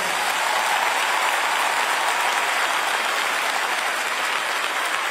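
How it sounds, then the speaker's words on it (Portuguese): Warm audience applause at a thirtieth-birthday celebration fills the room with a dense, sustained wash of clapping, steady and full from start to finish. "um grande aplauso para o Alexandre"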